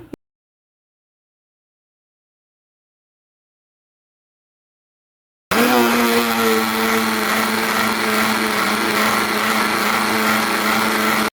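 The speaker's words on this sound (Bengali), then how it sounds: "এখন আবার আমি হ্যান্ড ব্লেন্ডারটা দিয়ে মাথা কিন্তু যত মিক্স করা যাবে অতই টেস্টি হবে" After a long stretch of silence, a hand blender whirs on loudly and holds a steady high motor whine while mixing watery buttermilk matha.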